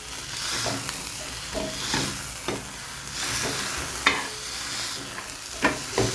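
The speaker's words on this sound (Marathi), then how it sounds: "मी असं मीडियम साईजचं असं फुलपात्र घेतलेलं आहे त्याने आता मी खरडणार आहे अशा पद्धतीने" A medium brass cup scrapes and crushes green chilies and garlic with salt for a spicy thecha, giving rough continuous grinding rasps with a few sharper knocks, close and fairly loud, with no talk.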